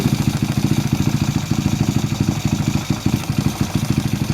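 A Honda Wave Alpha 140cc underbone motorcycle idles with a flat slide carburetor, its engine pulsing in a fast, even, loud clatter throughout, with a close mechanical rattle riding on the beat.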